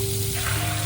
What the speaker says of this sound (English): Listening to the sizzle of the eggs.